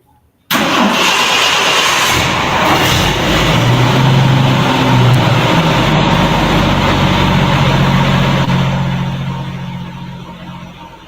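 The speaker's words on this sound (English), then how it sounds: "I'm going to start this up real quick to make sure it's not rattling or calling." A 40-year-old fuel-injected car engine cranks and fires up, then settles into a steady, loud idle in neutral, running continuously close by with no talking before it fades slightly at the end.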